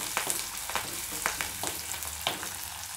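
Finely chopped shallots sizzle in hot oil with a dense, steady crackle, punctuated by a few sharp clicks of stirring.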